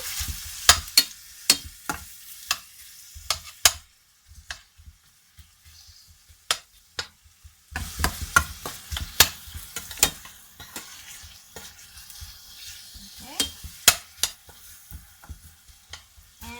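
Medium yellow onion sizzles quietly in a pot, punctuated by sharp clinks and scrapes of a spoon stirring at irregular intervals, with no voices.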